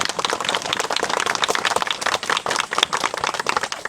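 A crowd at an outdoor memorial service applauding, dense steady clapping from many hands for a few seconds, no voices.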